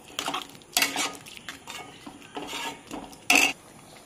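Boiled chana dal is tipped into a pan and stirred, giving a few distinct metal spoon scrapes and clanks against cookware with quieter stirring between, close by and without talk.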